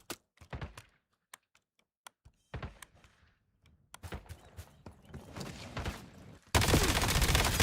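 Rapid bursts of automatic gunfire in a first-person shooter game, an exotic weapon with dragon camo and heavy recoil, crackling in uneven volleys before a loud, dense sustained stretch at the end.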